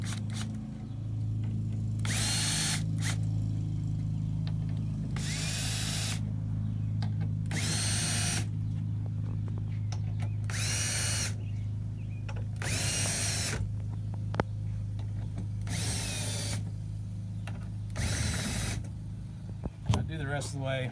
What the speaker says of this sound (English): Now I'm going to use a drill.